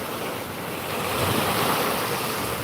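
Waves wash onto a clear-water Florida beach at sunrise in a broad, steady surf roar with some wind noise, close and continuous, with no voices.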